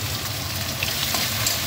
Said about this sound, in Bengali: এই পেঁয়াজটা হালকা করে একটু ভেজে নেব